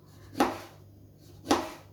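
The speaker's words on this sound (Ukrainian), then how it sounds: "Далі лимон також розрізаю напіл і нарізаю також півкільцями" Two crisp knife cuts slice through a lemon, about a second apart, close by with quiet between.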